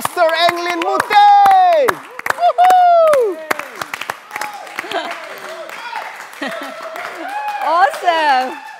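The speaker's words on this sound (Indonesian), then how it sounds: "mari kita beri tepuk tangan yang meriah" Clapping and cheering from a church audience at a Hillsong Bali service as a pastor is welcomed; loud bursts of clapping mix with raised, excited voices throughout.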